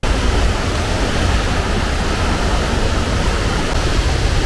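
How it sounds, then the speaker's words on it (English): The 110-foot Tamanawas Falls near Mount Hood in Oregon pouring down a lava cliff, a loud, dense, unbroken roar of falling water filling the whole scene. "110-foot Tamanawas, one of Oregon's top waterfalls, was absolutely magical as it thundered down the striking lava cliff"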